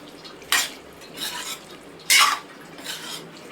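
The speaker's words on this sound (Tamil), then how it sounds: "முட்டையை இப்போ இதுக்கு மேலே போடுறோம். நல்லா கிளறி கொடுத்துக்கிறலாம்." Utensil scraping and stirring eggs in a cooking pan on low heat, four separate bursts of metallic scraping close by, with no talk.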